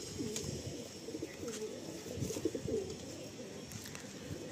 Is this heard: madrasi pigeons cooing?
yes